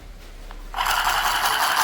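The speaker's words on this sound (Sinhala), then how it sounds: "මේක මහන කට්ටියට පහසුයි. මේක අනික බැටරි කෑලි 4ක් දාන්න එන්නේ." A battery-powered handheld sewing machine starts up after a quiet moment and runs in a steady, close buzzing whir to the end.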